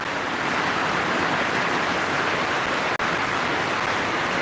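Steady rain falling during a live broadcast in the Philippines, a constant broadband hiss with no breaks apart from one brief dropout, loud and even with no voices.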